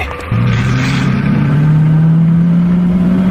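A car engine turns over and settles into a steady, rising drone as the driver pulls away, loud and close with no talk over it.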